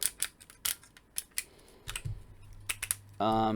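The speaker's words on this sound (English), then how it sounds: "Nice ratcheting joints." Ratcheting leg joints of a Transformers Studio Series Dinobot Slug toy make a series of sharp, close, dry clicks at an irregular pace, followed by a brief steady buzzing tone at the end.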